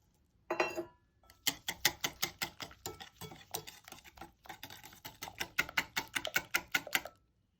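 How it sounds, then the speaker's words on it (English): Powdered stevia is whisked into frothy batter for a keto apple-yogurt pie, giving quick rhythmic clicks and taps of a whisk against the bowl in close, steady bursts with short pauses between. "Then you add the powdered stevia and whisk it up good."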